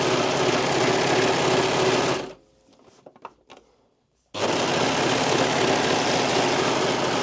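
A sewing machine or overlocker runs fast and steady while stitching a seam, loud and close, cutting out for about two seconds of near silence with faint handling clicks, then starting up again at full speed.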